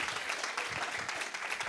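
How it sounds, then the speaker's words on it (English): A church congregation applauds, a soft, steady wash of many hands clapping at a distance, without pauses. "let's give her another round of applause"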